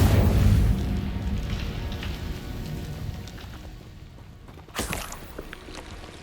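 Incendio fire spell cast in the Hogwarts Legacy video game, a loud whooshing burst at the start trailing into crackling, with a sharp impact burst near the end.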